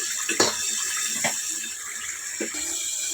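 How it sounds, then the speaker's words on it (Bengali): Water pours into a cooked spice masala for a boal fish curry in a kitchen, a steady close splashing stream with a few brief clinks and sputters over it. "আমি এখন এখানে পরিমাণ মতন জল দিয়ে দিচ্ছি, ঝোল যাকে বলে।"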